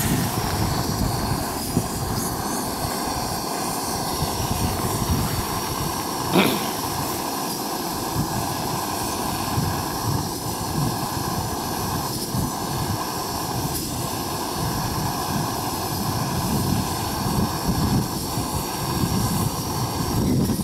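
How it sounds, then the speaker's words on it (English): Gusty wind roars steadily outdoors around an upright-canister camping stove, a broad continuous rumble with slight surges and one brief sharper gust, loud and unbroken with no talk. "Seeing some gusty wind"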